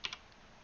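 Two quick, faint keystrokes on a computer keyboard, close and soft, followed by near silence.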